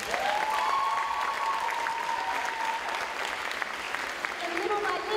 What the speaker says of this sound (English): Yeah, that deserves some applause.